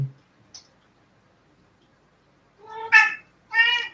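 A domestic cat meows twice, close and clear, after a faint click and a stretch of near silence indoors.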